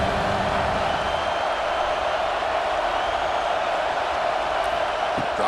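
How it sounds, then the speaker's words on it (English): Stadium crowd noise in College Football 26 during a simulated Texas Longhorns at Ohio State game, a dense, continuous roar of cheering that holds steady and loud throughout. "3rd down, and the crowd really getting into it."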